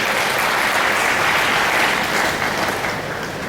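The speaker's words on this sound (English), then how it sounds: "I'd like us to give them a big round of applause" Sustained applause from an audience honoring volunteers at the Lagos HOMS 7th public draw, a dense, steady wash of clapping that holds level throughout and eases only slightly near the end.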